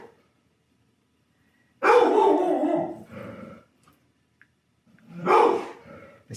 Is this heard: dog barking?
yes